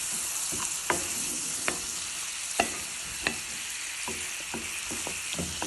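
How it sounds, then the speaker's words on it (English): Scallops tossed and stirred in sizzling butter in a pan make a steady frying hiss, broken by several sharp scraping clatters as they are moved around. "Toss them around in that butter."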